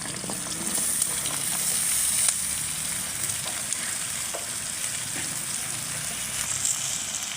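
Drumstick pieces, potato and eggplant fry in a pan with cumin paste: a steady, close sizzle runs without a break, with a few soft clicks and scrapes of the utensil underneath.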